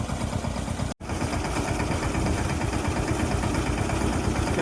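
A mini tractor engine running steadily on a soybean farm, a rough, throbbing idle close by, cut by a brief dropout near the start and then continuing unbroken with no talking.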